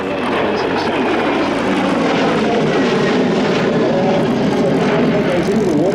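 A military helicopter flies at the Avalon Air Show, making a loud, continuous rotor and engine roar that stays steady throughout.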